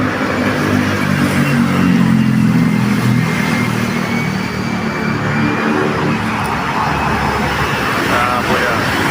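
A Philippine Airlines airplane at the airport gives off a loud, steady engine roar with a rumbling low end, heard close by and continuously while people talk over it.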